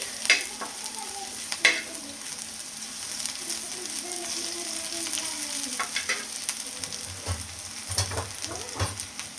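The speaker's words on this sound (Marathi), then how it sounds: "लसूण आपला चांगला तळू द्यायचा आहे अगोदर. फक्त लसूण तळण्यासाठी मी ह्याच्यात थोडंसं जास्त तेल टाकलं" Garlic fries in a generous amount of hot oil in a pan with turmeric and salt, giving a continuous close sizzle broken by stirring scrapes and sharper spits, with no voices.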